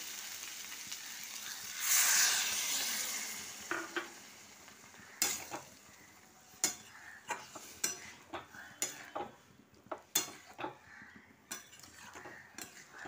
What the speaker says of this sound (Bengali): বেশ ভালো ভাজা ভাজা হয়ে গেছে। এবার আমি জল ঢেলে দেবো।